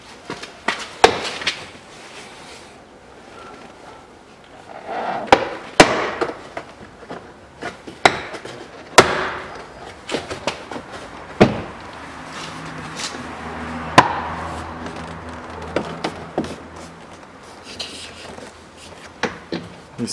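Front left door trim panel being pried off a Chevrolet Epica: scattered sharp plastic clicks, snaps and knocks at irregular intervals over quieter rustling and handling, close by, with no talking.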